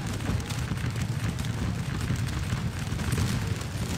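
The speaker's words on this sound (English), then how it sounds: "Volley fire." Massed musket volley fire from Hanoverian line infantry in the Waterloo-era game Scourge of War Waterloo, at Quatre Bras: a dense, continuous roar of crackling shots and rumbling booms, steady and fairly loud throughout, with no voices.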